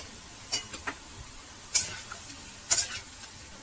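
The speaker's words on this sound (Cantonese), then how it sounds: "我哋加入乾瑤柱水一齊炒" Quiet sizzling in a pan punctuated by a handful of sharp scraping clicks from a spatula tossing shredded radish stir-fried with dried scallop water.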